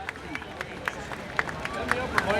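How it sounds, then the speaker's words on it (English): A crowd at Mid Michigan Raceway Park applauds a driver on the pole before a Mini Wedge feature, sparse individual claps rising over a murmur of speech and background babble. "How about a nice round of applause for John"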